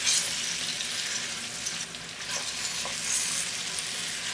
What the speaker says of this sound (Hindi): आलू को 1 से 2 मिनट ज़रूर फ्राई करें अनियन के साथ यानी कि प्याज के साथ।